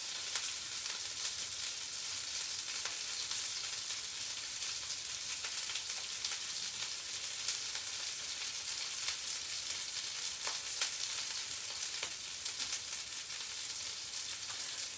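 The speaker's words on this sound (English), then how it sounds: "So you still are frying in some oil" Steady crackling sizzle of falafel frying in hot oil, continuous and fairly loud throughout, with occasional sharper pops.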